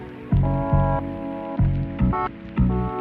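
A sampled bass line in a hip-hop beat, played dry without effects, thumps in short repeated notes with a looping rhythm alongside a melodic sample, alone and fairly quiet.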